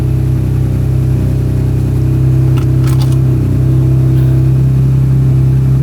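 A new petrol truck's engine running at a steady, loud idle from inside the cab, a deep continuous hum with faint clicks over it.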